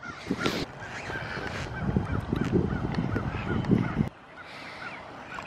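Waterfowl at a park call loudly and continuously, overlapping honking and quacking from several nearby birds that cuts off abruptly near the end, followed by a quieter call.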